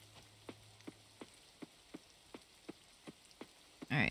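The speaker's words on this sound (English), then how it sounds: "The rain is peaceful." Rain falling in the video game Coral Island, heard as faint soft ambience with a regular series of about ten small ticking drops, ending in a brief louder burst.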